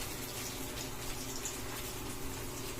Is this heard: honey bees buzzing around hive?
no